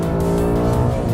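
Ford Mustang GT350 engine revving hard, a loud, close, sustained mechanical roar with a steady, rich drone throughout.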